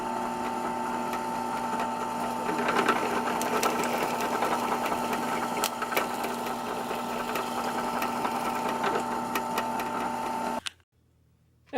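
A drill bores out holes in a 3D-printed plastic part, making a continuous loud whirring grind close by for about ten seconds before cutting off sharply.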